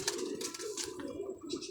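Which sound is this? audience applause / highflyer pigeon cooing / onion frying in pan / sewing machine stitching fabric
highflyer pigeon cooing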